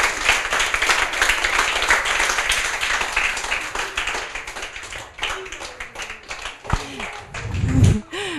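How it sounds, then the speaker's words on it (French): Dense, sustained audience applause after a children's book presentation, a steady wash of many hands clapping for several seconds, thinning toward the end as a few louder bumps and handling noises come through. "Bravo, on les applaudit très très très très fort."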